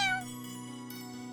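A cartoon cat in a Hindi children's cartoon gives a short meow at the start, followed by a thin tinkling, sustained musical tone.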